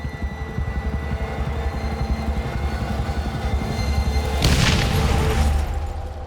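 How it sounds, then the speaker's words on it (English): A bomb disguised as a piece of wood with large protruding nails detonates on a roadside: a low rumbling bed gives way to one loud, sudden blast about two-thirds of the way through, then a roaring decay. "it detonated when he touched it, and the force of the explosion essentially eviscerated him"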